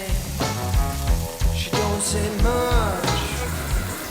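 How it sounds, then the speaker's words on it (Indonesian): Pre-boiled octopus satay skewers sizzle on a grill with a steady, close crackle and occasional louder pops and spits, without any talking. "Kita grill dulu sate guritanya kurang lebih selama 15 menit."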